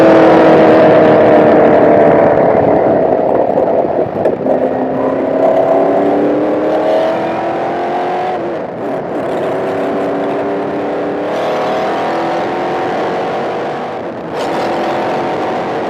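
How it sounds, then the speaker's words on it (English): A 1968 Lola T-160 race car accelerates hard up a track's main straight, its loud, close engine screaming through rising pitches with brief dips at gear changes over a sustained run. "I accelerated up the main straight."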